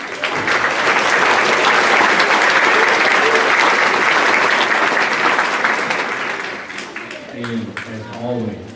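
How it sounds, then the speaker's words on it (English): Loud, sustained applause from a school winter band concert audience in Tullahoma fills the hall for several seconds, then tapers off as a voice begins speaking over the fading claps. "let us give all these businesses a round of applause."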